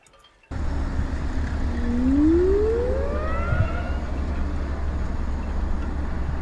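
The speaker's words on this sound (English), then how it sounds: "the wind's really blowing the horn noises away today" A cruise ship's horn sounds while departing Southampton, a single long blast that swells and rises, heard faint and distant beneath heavy, roaring wind noise.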